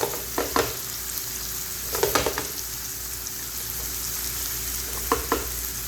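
Onions browning in a frying pan for a dhaba-style karela pyaz dish give a steady, close sizzle, with a few soft clinks of stirring scattered through it.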